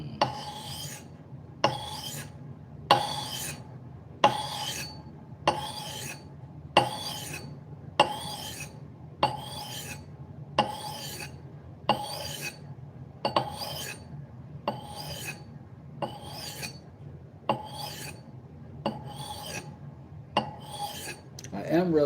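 A tool is pushed back and forth across a set of sharpening stones with a flattening stone, giving about fifteen close, evenly spaced rasping strokes with a gritty scrape, alone in a quiet room.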